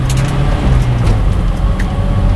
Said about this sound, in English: Datsun B210 0 to 60 test in 3, 2, 1, go